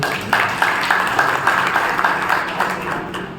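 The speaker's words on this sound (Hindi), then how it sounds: "अपने लिए तालियां बजाइए।" Audience at a Brahma Kumaris Rajyoga talk clapping for themselves, a loud, rhythmic group applause with steady beats pulsing evenly throughout, near and full in the room.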